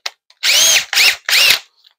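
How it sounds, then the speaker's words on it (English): A power drill fitted with a 3/8 inch bit enlarges a hole in an RV tank, giving three loud, close whirring bursts in quick succession with short pauses between them. "So the next one we'll go to is a 3/8 bit. We'll throw that in the drill."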